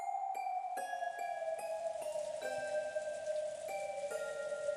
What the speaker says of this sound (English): Gently, as though someone was mourning over something, rain began to fall.